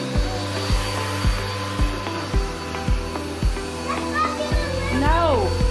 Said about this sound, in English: No, vacuum in that area.